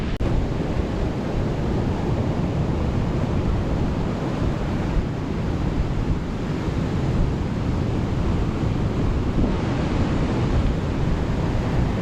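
Powerful ocean swell pounds a rocky coast on a rising tide, a continuous roaring wash of surf mixed with strong wind buffeting the microphone, loud and unbroken with no voices.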